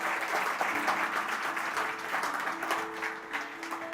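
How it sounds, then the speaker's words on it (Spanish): A church congregation applauds together in a sustained, dense burst of clapping that fills the room, with a few voices mixed in. "Denle un aplauso a Cristo"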